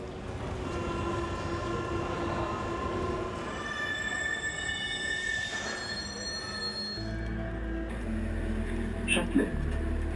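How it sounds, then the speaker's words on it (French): A Paris metro train runs with high, sustained wheel squeal for several seconds, then the sound drops to a heavy low rumble with clanks as the carriages roll on, loud and close throughout. "En attendant, Oriane et Caroline sont enfin arrivées au métro"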